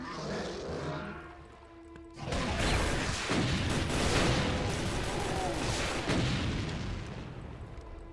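Grenades detonating in the DOOM shooter, a sustained dense burst of loud blasts and crashing gunfire lasting several seconds after a quieter lead-in.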